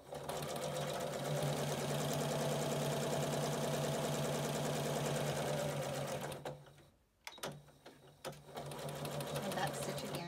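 A sewing machine runs steadily while back stitching a fabric surgical cap, a close, fast mechanical whir that halts briefly for a pause and then resumes with short bursts.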